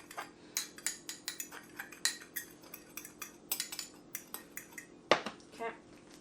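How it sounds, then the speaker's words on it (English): A fork mixes seasonings for crispy hot wings in a bowl, giving quick, rhythmic metal clinks and taps against the bowl, with one sharper clank near the end. "So I'm just going to get a fork here. Mix the seasonings together."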